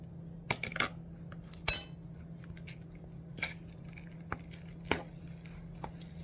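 A spoon working a stuffed shells filling in a bowl, sparse soft squishes and light clinks against the dish over a steady low hum, quiet and close.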